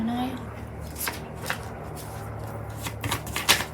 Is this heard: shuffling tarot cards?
yes